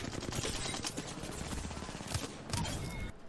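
Gunfire in the Apex Legends game during a close fight: dense, sustained rapid shots and impacts from both players, fairly busy and continuous, with no talk.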